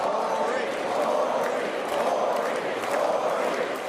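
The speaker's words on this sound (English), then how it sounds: "The crowd chanted his name in unison." A large crowd at a news event chants a name together in steady rhythmic unison, loud and sustained with a roaring murmur beneath.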